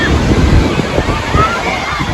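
Sea waves break and slosh at Juhu Chowpatty beach in Mumbai, a loud close wash of surf mixed with wind buffeting on the microphone.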